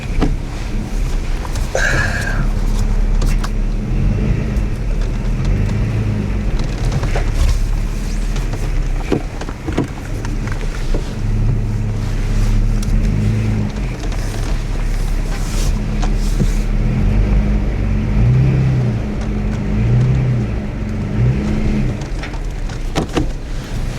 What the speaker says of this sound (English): All right, so let's just do a 3-point turn right.